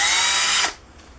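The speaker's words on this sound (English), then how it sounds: "now we're going to be using the sponge, buff pad, whatever you want to call it" A power polisher with a sponge buff pad runs loud and steady against glossy black plastic for a moment, then stops abruptly, leaving near silence.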